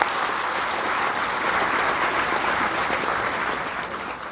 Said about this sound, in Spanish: Y yo quisiera que le brindemos un fuerte aplauso a nuestra presidenta Claudia Sheinbaum